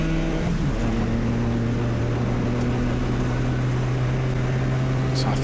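Race car in the CityCar Cup at Snetterton, heard from inside with a loud steady engine drone and a gear change near the start, continuous and close throughout.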